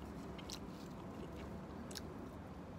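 Crispy breaded shrimp fritters seasoned with Indian spices are bitten and chewed close to the mic, giving soft crunches and moist chewing sounds over a steady low background hiss.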